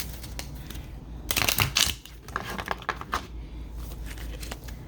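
Cards shuffled by hand during a tarot-style reading, a soft papery riffling and crinkling that swells in a dense burst in the middle and continues in lighter bursts, close and fairly quiet over a faint background hum.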